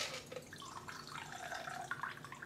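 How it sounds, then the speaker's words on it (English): A Leg Spreader cocktail is poured into a shot glass, a faint, trickling liquid splash with light drips running steadily for a couple of seconds, close and quiet. "Go ahead and pour that into your shooter glass"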